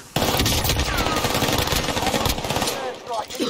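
Gunfire in the video game Warzone: rapid automatic bursts crackle almost continuously, loud and close, forming a dense rattling volley that eases slightly near the end.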